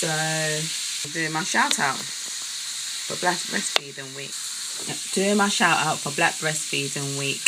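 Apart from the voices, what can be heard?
food sizzling while cooking in a kitchen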